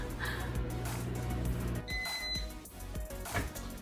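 A microwave oven finishing a one-minute run while melting butter, its hum cutting off and a short high electronic beep sounding mid-clip, followed by quieter clatter.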